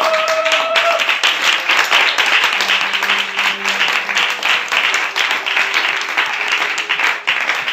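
A church congregation applauds during a service, with dense, steady clapping lasting about eight seconds at a fairly loud, even level, and a faint held tone underneath.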